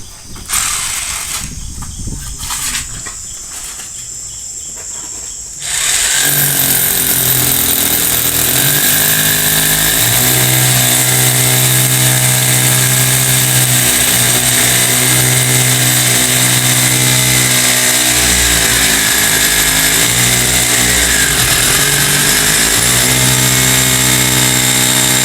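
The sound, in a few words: power drill boring into a post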